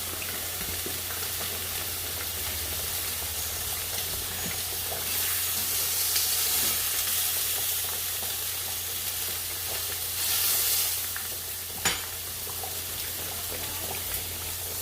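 Bistec steak sizzles and fries in oil in a pan for a homemade jibarito sandwich, a steady close crackle with no one talking, swelling louder for a moment in the middle.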